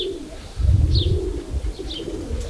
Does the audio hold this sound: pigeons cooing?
yes